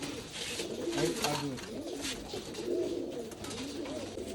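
High flyer pigeons coo close by in a loft, repeated soft rolling coos in several bursts over a faint background.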